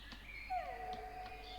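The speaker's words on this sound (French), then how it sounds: "Oh, c'est Rened le chien." Whimpering, whining dog calls from the Minecraft mod From The Fog, a few drawn-out yelps that slide downward, fairly close and clear against a quiet background.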